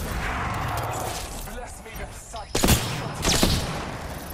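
Gunshots in Apex Legends, a few sharp, loud bursts of fire in the second half over a background of battle noise, with players talking over it.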